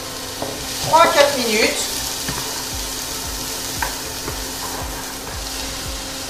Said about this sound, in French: je vais faire revenir oignons et carottes